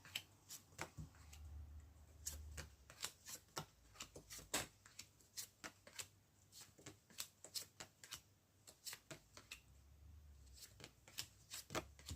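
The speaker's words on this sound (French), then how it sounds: "je vais remélanger les cartes pour avoir un maximum d'informations dessus" Tarot cards being shuffled by hand, a long run of quick soft riffling taps and flicks in an irregular patter, close and fairly quiet with low background hum and no talking.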